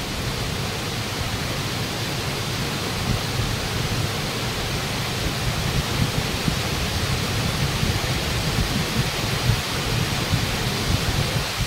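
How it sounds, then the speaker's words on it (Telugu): Ladda waterfall roars steadily, a dense, even wash of falling water that stays loud and unbroken throughout, with no voices. "ఫైనల్లీ నేనైతే లద్దా వాటర్ ఫాల్ ఉన్నాను."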